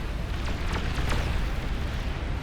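Heavy cannon or nuclear blast explosions in an 8v8 match of the real-time strategy game Beyond All Reason, a loud sustained rumbling roar with a few sharp bursts cracking through near the start, no talk.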